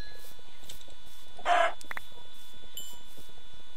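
A single short burst of a chicken's cluck from the Minecraft game, heard near and clear against a quiet background with faint ambient game tones.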